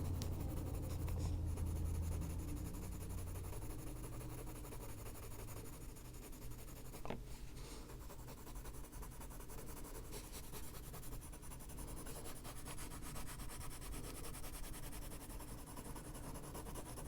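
A colored pencil scrapes steadily across paper in close, continuous strokes during adult coloring, a soft dry rubbing texture with no talk.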